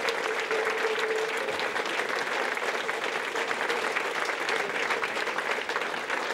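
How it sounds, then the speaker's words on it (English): Audience applause for Tina during a magazine TV show, dense continuous clapping at an even level from start to end, full and close. "We offer our warm applause"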